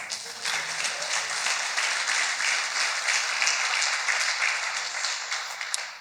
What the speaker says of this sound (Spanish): Denle un aplauso hacia la gloria.